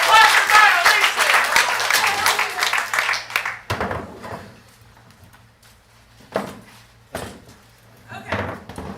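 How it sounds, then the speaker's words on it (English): An audience at an improv student showcase claps loudly for about three and a half seconds, then the applause thins and dies away, followed by scattered quieter sounds. "Applause for violation!"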